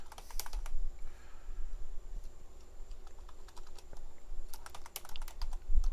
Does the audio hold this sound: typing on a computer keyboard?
yes